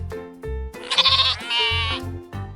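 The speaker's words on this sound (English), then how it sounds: "It's a sheep." A fluffy white sheep bleats in a few loud, wavering calls, heard clearly with a soft musical backing underneath.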